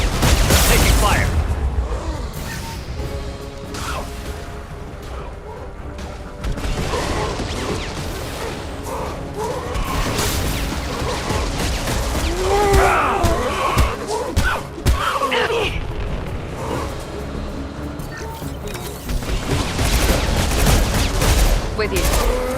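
Sustained gunfire in a Mass Effect 2 Legendary Edition battle, played on Insanity: dense, overlapping shots and impacts crackle continuously against loud combat noise, with voices calling out under the fire.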